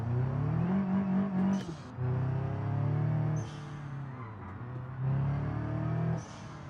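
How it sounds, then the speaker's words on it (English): A loud video game car's turbo engine revs hard in repeated surges, dropping briefly between bursts, with a high whine rising at the peaks of each rev. "Listen to that turbo!"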